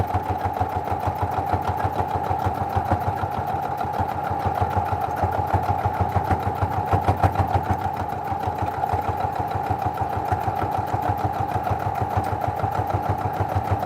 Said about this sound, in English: Now I'm just doing my seams, quilting along the seams.